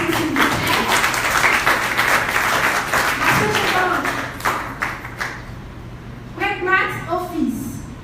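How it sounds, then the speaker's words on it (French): An audience at a photography festival in Haiti claps loudly and densely, fading out after a few seconds as an amplified voice starts talking. "Applaudissez s'il vous plaît."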